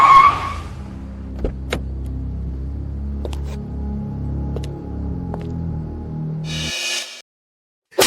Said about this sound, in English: Hear those cars outside?